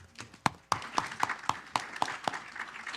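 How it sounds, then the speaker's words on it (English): Scattered hand claps at a city council regular meeting, sharp distinct slaps in an uneven rhythm rather than a dense roar, fairly faint and thin, as from a small group in a chamber. "Let's give him a big round of applause."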